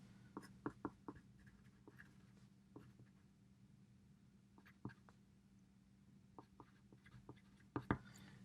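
A password written by hand with a pen on paper, faint scratchy strokes and taps in short irregular bursts against a quiet hum, with clusters near the start and end.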